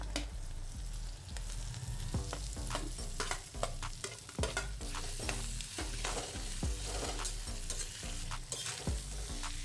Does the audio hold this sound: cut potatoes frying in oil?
yes